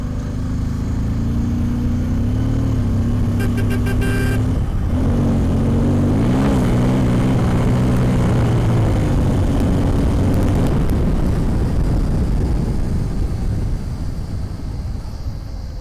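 Bajaj Pulsar N250 motorcycle engine revving steadily at high RPM, a loud continuous drone whose pitch climbs and wavers through several throttle blips, with a brief dip near five seconds before rising again.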